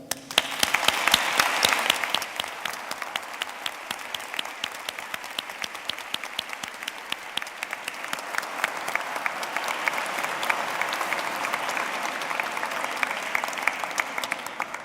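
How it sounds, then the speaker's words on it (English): A large audience at a university graduation applauds steadily, a dense wash of clapping that swells briefly near the start and continues evenly throughout. "give a round of applause to those around you"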